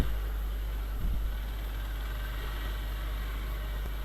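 A Viper 200 road motorcycle, a 150-class bike, creeps slowly in first gear over a rough, broken road, its low engine drone steady and close with a brief bump of noise near the start.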